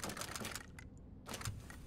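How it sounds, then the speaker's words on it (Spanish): Metallic clicks while aiming a weapon in the Resident Evil 2 remake, a few quick faint clicking bursts with a brief gap in the middle, quiet and close with no speech. "Se escuchan los clic, clic, clic del metal."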